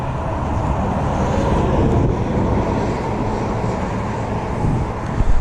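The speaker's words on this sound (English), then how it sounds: "The wind's horrible right now." Strong wind blows over the water on a windy fishing day in the Florida Keys, a loud, constant rushing roar buffeting the microphone without letup.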